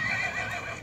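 A horse lets out a brief neigh, close and moderately loud, with no voices over it.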